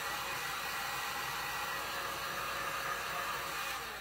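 A hair dryer blows steadily and loudly on a wooden knife block being upcycled, a continuous even whoosh of air that holds at the same level for the whole stretch with no talking.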